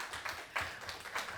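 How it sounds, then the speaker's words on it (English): A small audience gives a short round of applause for Sandi Adams at a special ceremony during a conference, the clapping sparse and uneven with a few louder bursts, heard alone without talk. "Everybody give us a round of applause for Sandi Adams."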